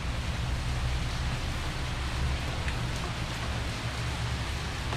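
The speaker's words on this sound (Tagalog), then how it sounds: "Ayun na po, talagang tuto na po ang ulan." Steady rain falls in a mountain orchard area, a dense, even hiss of drops on surfaces that holds without a break, with no voices over it.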